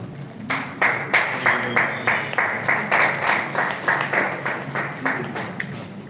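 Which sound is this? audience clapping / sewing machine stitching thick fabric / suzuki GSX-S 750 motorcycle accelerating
audience clapping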